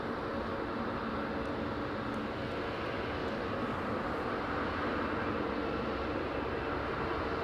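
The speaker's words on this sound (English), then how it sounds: "Oh, it's an EasyJet 319." An EasyJet Airbus A319 airliner passes overhead near London Heathrow while lowering its flaps, a loud, steady, broadband roar that fills the whole stretch without a break.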